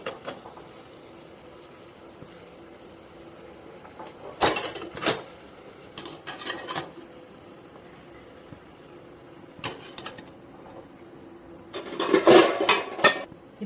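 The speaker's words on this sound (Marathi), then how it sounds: "आता आपण इडलीच्या भांड्यामध्ये याला ठेवून देऊयात।" Metal idli plates set down into a steel idli steamer pot over boiling water for rice idli, giving a few scattered clinks and clatters, with a louder cluster of metallic knocks near the end and quiet gaps between.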